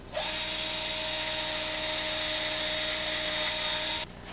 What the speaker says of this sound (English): just drill a hole in the cap for the water to drain through